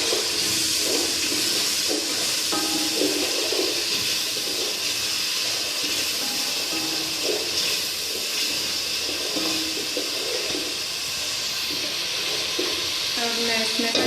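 Water is poured into a hot pan of frying onions while cooking kadhi pakora, and it gives a continuous loud hiss and sizzle with faint stirring clatter underneath.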